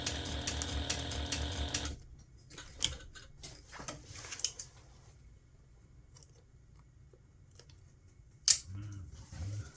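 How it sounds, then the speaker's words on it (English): Sewing machine running a quarter-inch top stitch and back stitch on a gift bag, a fast rhythmic whirring burst at first, then quiet handling clicks and a sharp snap near the end. "I'm just going to sew all the way and then back stitch all the way."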